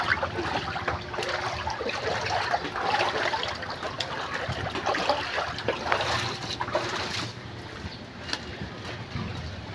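Water flowing back out of a blocked drain makes a steady, close trickling and gushing that runs continuously without a break, with no voices.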